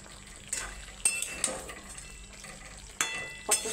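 Chicken sizzles gently in a pan on low heat as a utensil stirs it, with a handful of sharp metal clinks and scrapes over the quiet, steady frying hiss close by.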